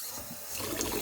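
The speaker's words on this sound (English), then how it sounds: "Just got to turn the water on." Water from a kitchen tap runs into a vessel for making coffee, a brief steady splashing rush that swells slightly, with no voices.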